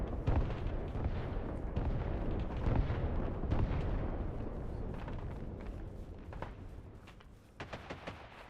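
Artillery rounds impacting during a mountain assault in the video game Arma Reforger: a dense, continuous rumble of booms and blasts, loud and heavy at first, then thinning to scattered distant thuds.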